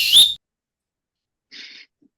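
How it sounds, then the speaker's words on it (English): A whistle gives one short, bright blast, then falls silent, followed by a fainter second toot after a pause. "Jugsy, blow your whistle for the last time"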